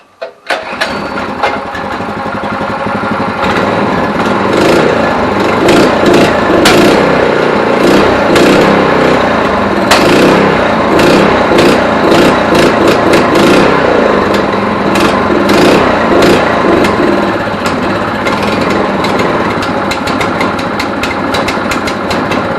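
Go kart engine with a troublesome carburetor starts after a brief first sputter, then settles into a loud, continuous, buzzy running drone close by for the rest of the stretch, with no talking.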